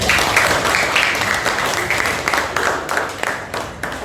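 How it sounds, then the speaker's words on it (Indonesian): Classroom audience applauding a student group after their presentation, a loud burst of many clapping hands with distinct individual claps audible in the wash, tapering slightly toward the end. "berikan tepuk tangan pada Bu Marisa kelompok 3"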